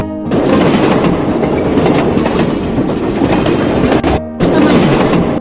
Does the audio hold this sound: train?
yes